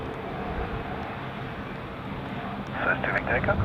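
Air Baltic airliner arriving at Zurich Airport, a low, steady broadband rumble of the distant jet that swells toward the end, with a voice speaking over it.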